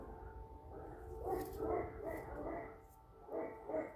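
Several dogs bark in short bursts at a distance, faint but distinct, spaced irregularly over a low background hum, reacting to an air-raid siren.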